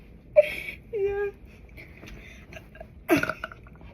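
A 16-year-old girl burps during a home burping contest. There are a few short throaty bursts, one drawn out and low, heard close amid other quiet vocal noises.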